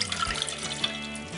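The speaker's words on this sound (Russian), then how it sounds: "залить ею листья эвкалипта где-то минут на 10-15" Boiling water poured from a kettle over eucalyptus leaves in a kitchen, a steady splashing trickle with small bright gurgles, close and moderately loud.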